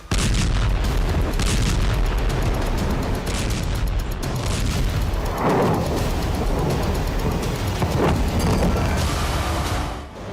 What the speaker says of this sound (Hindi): जबरदस्त ब्लास्ट के साथ ही आसपास का इलाका थर्रा उठा